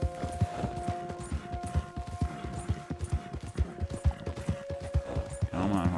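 Horse galloping in the video game Red Dead Redemption 2, a quick, steady run of hoofbeats close up, with a musical tone sustained underneath and a voice talking over it.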